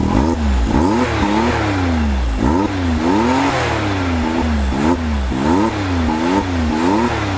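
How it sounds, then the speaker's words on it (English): A Can-Am Maverick X3 Turbo R off-road side-by-side engine revs hard again and again, each pull rising sharply then dropping in a repeating rhythm, loud and close with a raw, unmuffled rasp. "This engine just sounds raw, unfiltered, and it loves to scream all the way up to revving"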